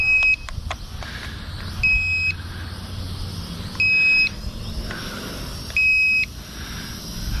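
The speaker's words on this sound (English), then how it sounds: "Remote beeping," A Sky Viper Fury drone remote gives short high beeps at a regular pace, about one every two seconds, each a brief electronic tone over faint background noise.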